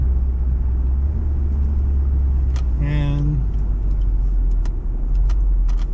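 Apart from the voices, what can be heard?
Jaguar XJR car engine rumbling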